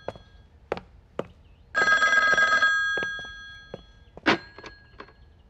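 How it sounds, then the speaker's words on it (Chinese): A telephone bell rings in one loud, sustained burst of about a second in an indoor wartime film scene, framed by scattered thuds and footsteps before and after, with no talking. "应该是板西利司令官的问责电话到了。"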